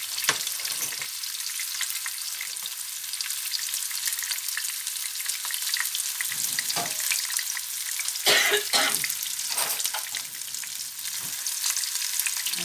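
Onions frying in a pan for lamb navarin, a close, steady bright sizzle throughout with occasional stirring scrapes and a brief throat-clearing sound, no talking.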